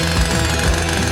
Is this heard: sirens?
no